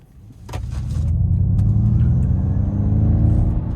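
A 2025 Ford Mustang Mach E GT Performance electric car accelerating with its synthetic propulsion sound on, a loud, deep rumbling drone that swells within the first second and holds steady, heard from inside the cabin.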